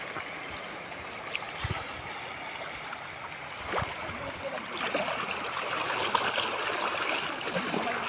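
River water in a lahar river flows with a constant broad rush while people swim, with occasional splashes and faint distant voices.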